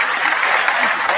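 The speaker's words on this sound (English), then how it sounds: "it amazes me that people clap that when that shot was never going anywhere except into Clarkie's hands." Crowd at Oriel Park applauding a tame shot during a Dundalk versus St Patrick's Athletic football match, a steady wash of distant clapping across the stands with no gaps.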